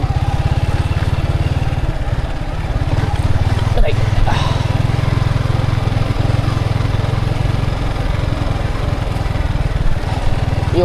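A motorcycle engine, one with a snapped chain after a faulty fit, runs with a steady, close, low rumbling throb for the whole stretch, with brief clattering knocks midway.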